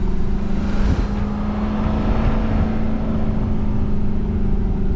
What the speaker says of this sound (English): You can kind of hear the engine and exhaust brake working.